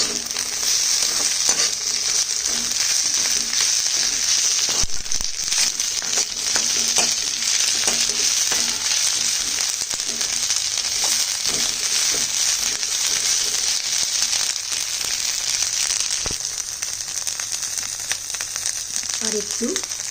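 Chopped capsicum pieces sizzling in hot oil in a pan for Chinese fried rice, a steady loud crackling fry with intermittent scrapes and clacks of stirring, and a brief voice near the end.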